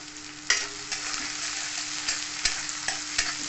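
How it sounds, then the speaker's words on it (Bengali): Chopped onion, green chili and ginger-garlic fry in oil for paneer bhurji, a steady crackling sizzle punctuated by several sharp utensil knocks against the pan at irregular intervals; no talking. "এতে আমি দিয়ে দেবো মিহি করে কুচি রাখা পেঁয়াজ। দিয়ে দেবো এখানে কাঁচা লঙ্কা কুচি, আদা রসুন কুচি রেখেছিলাম দিয়ে দিলাম।"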